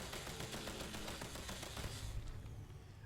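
A Tesla Heavy Autocannon mod in Fallout 4 fires in a rapid, evenly spaced burst of heavy booming shots, close and loud, stopping after about two seconds and leaving a rumbling tail.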